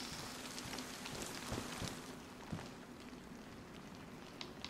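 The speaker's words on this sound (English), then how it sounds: "Oh, great, it's raining." Steady rain in the video game DayZ, a dense continuous hiss of falling water with scattered drop taps, evenly loud throughout and with no talking over it.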